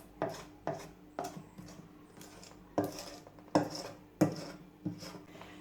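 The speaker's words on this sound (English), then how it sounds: "Just scraping down the sides." A spatula scrapes around the sides of a mixing bowl of Jamaican wine cake batter, making a series of sharp, close scraping and tapping strokes at irregular intervals with short pauses between them.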